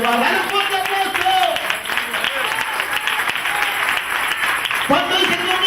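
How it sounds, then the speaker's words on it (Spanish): A church congregation breaks into loud, sustained applause and clapping that keeps going without a pause, with some voices and cheering mixed in throughout. "¡Dale un fuerte aplauso!"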